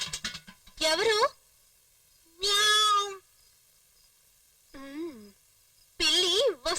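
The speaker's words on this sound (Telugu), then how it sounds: "ఏ పిల్లి వెళ్ళిపో, లేదంటే నీ తోపు కోసేస్తాను." A cat meows four times in a Telugu film scene, each call loud, close and drawn out with a rising then falling pitch, separated by short silences.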